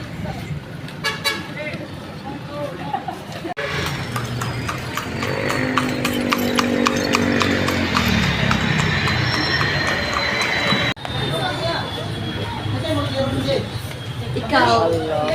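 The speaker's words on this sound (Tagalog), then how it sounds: "Mga kabayo, ayun." Horses' hooves clip-clop along a road in Iligan City, a steady clatter heard amid street traffic with a vehicle horn tooting, while people talk nearby.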